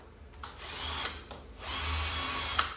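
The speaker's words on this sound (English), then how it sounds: "I'm gonna take my drill here and I'm gonna drill a center hole" A power drill bores a small center hole in plywood while building a Pac-Man arcade cabinet. The steady whine runs close and loud, pausing briefly between bursts, with no talking.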